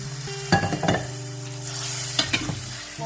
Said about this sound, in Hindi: अब जो ये नींबू ये थे इसको भी डाल देंगे इसमें